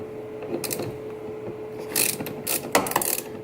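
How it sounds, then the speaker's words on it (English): Ratchet fitted with a 10mm socket loosening a car battery's negative terminal: a few short bursts of clicking, close and fairly quiet, with a louder run of clicks toward the end and no talk. "It's a 10mm socket."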